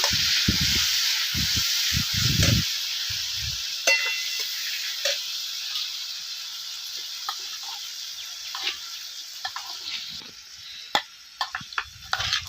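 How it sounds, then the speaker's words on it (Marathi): Green chillies frying in hot oil give a loud, steady sizzle and hiss from the pan, with clinks and scrapes of stirring mixed in, close by with no voices. "आता कुठलेली ही हिरवी मिरची ना आपण ह्याच्यामध्ये टाकायची मिरची आपल्याला चांगली भाजून घ्यायची"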